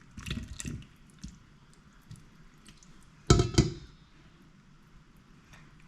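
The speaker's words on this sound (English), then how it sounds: "I'm gonna pour this in" Liquid pancake batter is poured from a container, with a few faint drips early on and then a louder splashing pour around the middle, in an otherwise quiet kitchen.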